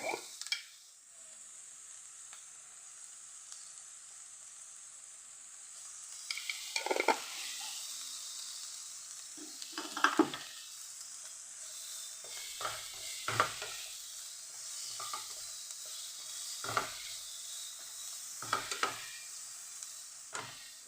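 Spices with turmeric powder being stirred in a frying pan, a steady sizzle broken by repeated scraping strokes of the spoon, close and moderately loud with no talking.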